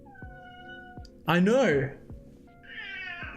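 Indoor cats meowing, one loud drawn-out meow up close in the middle, followed by a fainter, higher cry, with a person speaking briefly in the room.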